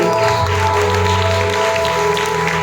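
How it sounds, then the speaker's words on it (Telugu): Congregation at a New Year watch night church service clapping together, a dense continuous wash of applause filling the room, with a voice faintly audible underneath. "Let us clap."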